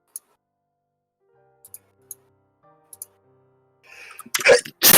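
Sneeze from a person working at a computer, a sudden loud burst at the very end after a quiet stretch of light keyboard or mouse clicks and a faint murmur of talk.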